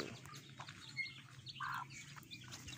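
Chickens give soft, scattered clucks and chirps, quiet and a little distant, with no talking.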